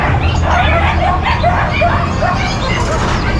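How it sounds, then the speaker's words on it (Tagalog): Several dogs bark and yip in quick bursts close by, with high whimpering yelps mixed into a noisy, busy background at a pet market with mini pinschers, cats and pigs. "dami niyang aso"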